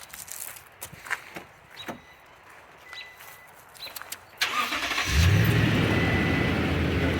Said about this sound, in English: we're going to turn on the truck